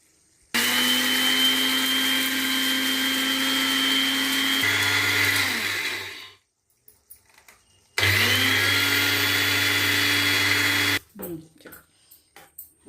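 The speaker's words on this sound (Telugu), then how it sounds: "మిక్సీ పట్టేస్తా." A kitchen mixer grinder whirs loudly as it grinds cumin, fenugreek and mustard seeds for a no-onion, no-garlic tomato pickle. It runs in two strong bursts separated by a brief pause, then winds down with small clatters.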